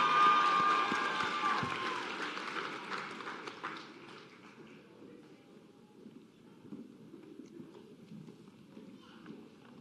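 Applause at a college of nursing white coat ceremony, a dense crowd clapping loudly at first and then thinning into a quieter, scattered patter over the remaining seconds.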